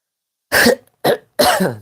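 Three sharp, loud coughs in quick succession, close up, separated by brief silences.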